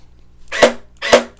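Faction Sentinel RC gel blaster firing on single fire: two sharp, separate shots about half a second apart, close and loud against a quiet background.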